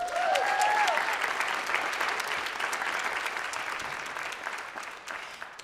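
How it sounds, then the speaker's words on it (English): Audience applause at an annual awards ceremony in a hall, a steady, dense wash of clapping that holds for several seconds and slowly eases, with a brief voice-like tone near the start. "Please give a round of applause to Inez Bruce."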